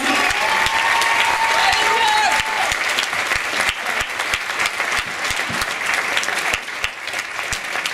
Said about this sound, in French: J'aimerais que vous les applaudissiez encore très fort